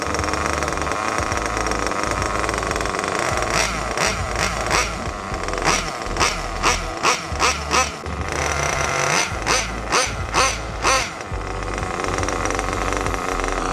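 A nitro RC car engine runs steadily up close, loud and buzzing, with a string of sharp rhythmic revs and throttle blips through the middle of the run.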